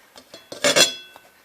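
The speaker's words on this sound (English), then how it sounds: "sorry about that scratch on the plate" A short metallic scrape of a knife across a plate while serving whole wheat bread, a brief harsh screech with a few light clinks around it.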